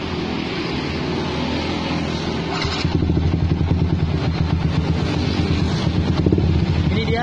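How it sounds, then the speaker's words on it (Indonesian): A Yamaha Vixion motorcycle fitted with an Akrapovic GP exhaust idles close by, a rough low burble that grows louder and more pulsing partway through and keeps a steady rhythmic throb. "Ini dia suara pada saat idle pada RPM-nya."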